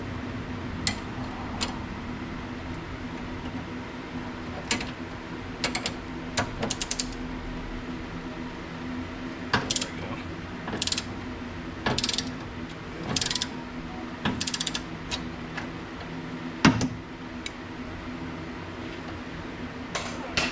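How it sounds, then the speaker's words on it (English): Ratcheting wrench clicks in short bursts while loosening a sway bar bolt through the front wheel well of an S550 Mustang GT, fairly close with brief pauses between runs of clicking and occasional metallic clanks. "I'm gonna have to go in through the wheel and take that out using a wrench"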